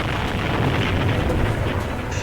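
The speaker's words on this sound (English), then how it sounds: "the whole circus ground is deafened by the loud explosion" A loud explosion at a circus ground in a radio-drama sound effect, a dense sustained rumbling boom with heavy low-end roar lasting about two seconds.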